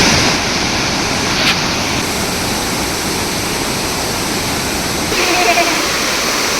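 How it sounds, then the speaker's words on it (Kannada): Fast, forceful water pours down a waterfall in a constant loud roaring rush that fills the whole scene, close by and unbroken throughout. "ಏನು ಫಾಸ್ಟ್ ಫೋರ್ಸ್ ಹೋಗ್ತೈತೆ ನೋಡ್ರಿ ಇಲ್ಲಿ ನೀರು ಮಾತ್ರ"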